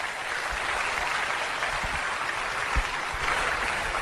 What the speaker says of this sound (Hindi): बहुत बढ़िया तालियों के साथ वेलकम करें मीनाक्षी राणा का।